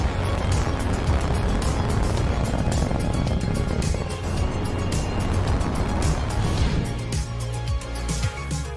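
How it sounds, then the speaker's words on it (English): In a spaceflight video game, a Falcon 9 rocket launches with a continuous loud engine roar, a dense rumbling wash of sound that holds steady throughout, with a voice faintly underneath. "Ignition. Liftoff. Falcon 9 has cleared the tower."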